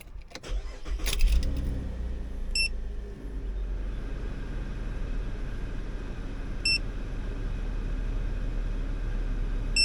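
A car engine cranks and catches near the start, then idles steadily with a low rumble, while a few short electronic beeps from a code reader sound intermittently over the running engine.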